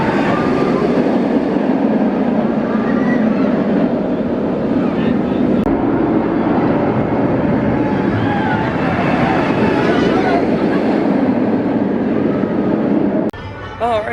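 Roar and rumble of the Afterburn inverted roller coaster at Carowinds, a loud, continuous rushing and rattling that lasts nearly the whole stretch before cutting off abruptly near the end.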